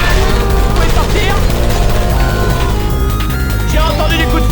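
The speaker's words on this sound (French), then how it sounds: "J'ai entendu des coups de feu!" Gunfire in a video game, a dense, continuous burst of rapid shots and booms running the whole stretch, loud and cluttered, with no talk over it.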